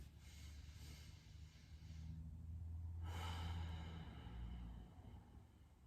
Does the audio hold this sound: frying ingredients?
no